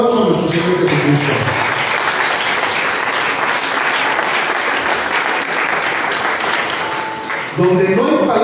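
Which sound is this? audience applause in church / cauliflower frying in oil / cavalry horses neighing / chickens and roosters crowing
audience applause in church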